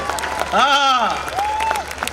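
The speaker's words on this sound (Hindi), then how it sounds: "तालियां कम बज रही है" Scattered audience clapping at a Hindi comedy show, light and uneven, with a drawn-out voiced exclamation rising over it midway and a second shorter vocal sound after.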